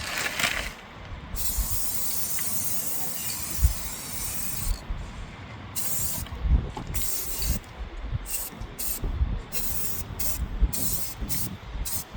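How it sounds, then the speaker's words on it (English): An aerosol can sprays paint onto an old lawn mower in a steady hiss, broken by short pauses and repeated bursts, with faint handling knocks underneath. "Spraying some of the harder to get at areas with spray paint."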